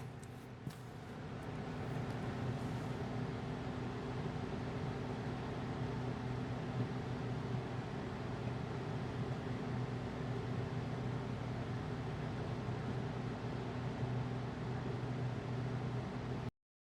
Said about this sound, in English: I'm going to run this through my vacuum chamber